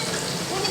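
Jalangkote pastries frying in hot oil, a steady broadband sizzle that stays even and close throughout.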